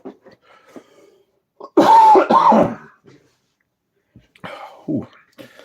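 A loud, close cough bursts out once, preceded and followed by soft breathy throat noises and quiet rustling.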